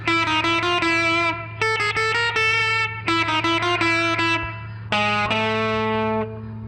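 Distorted electric guitar plays the ending of a Halloween song, a series of loud sustained chords and single-note phrases with short breaks between them, ringing out at the close.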